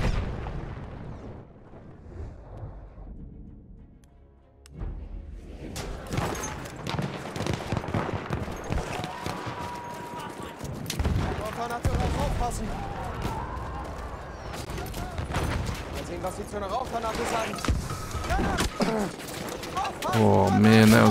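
Grenade explosions and bursts of gunfire fill a chaotic multiplayer battle in Battlefield 1, heavy booms and crackling shots layered densely over each other, with a voice speaking over the din.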